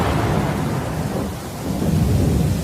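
Cartoon thunder rumbles continuously with steady rain hiss beneath it, a loud, dense storm swelling slightly toward the end with no voices.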